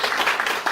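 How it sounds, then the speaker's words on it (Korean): Brief burst of audience applause at the close of a presentation on power equipment and diagnostics, a dense patter of many hands at moderate loudness. "박수 한번 부탁드리겠습니다"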